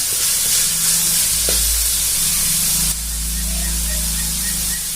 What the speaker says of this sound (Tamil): நல்லா வதங்கணும் வெங்காயம்.